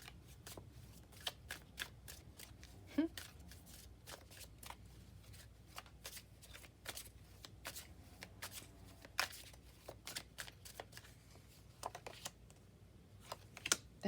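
Tarot cards being shuffled by hand, soft rapid riffling and flicking taps that come in quick, irregular bursts, quiet and close with no talking.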